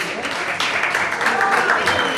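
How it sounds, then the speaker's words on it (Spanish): A crowd at a live music show applauds for a performer named Gastón, giving a short burst of dense clapping with some voices mixed in, swelling slightly in the second half. "fuerte el aplauso para Gastón"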